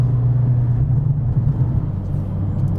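A 2020 Mercedes CLA45 AMG being driven gives a loud, steady low engine drone with a strong rumbling hum. It is heard from inside the car, constant throughout, with no audible speech.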